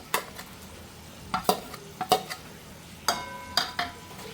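Ground masala paste is stirred into hot oil for a crab curry, giving a low sizzle broken by a series of sharp scraping clinks from a spoon against the pan. Close, with no talking.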